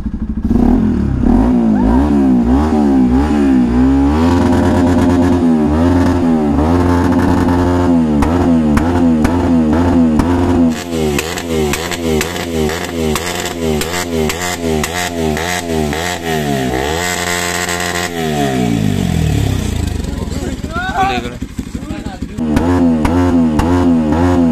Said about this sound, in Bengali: আরপিএম দিব লাগে আর বাইকের সাউন্ডটো,